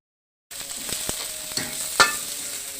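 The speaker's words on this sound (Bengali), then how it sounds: "হালকা ভাজা ভাজা হবে আর কি পেঁয়াজটা" Onion paste frying in a pan as spoonfuls of garlic paste go in and get stirred, giving a steady close sizzle with a few sharp scrape-like clicks from the spoon and no talking.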